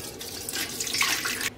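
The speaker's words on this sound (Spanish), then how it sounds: "Ahora le voy a dejar caer aquí agua." Water pours steadily from a tap into a pot on the stove for a stovetop water bath for a no-bake cheese flan, a short, soft splashing stream that swells briefly and then cuts off.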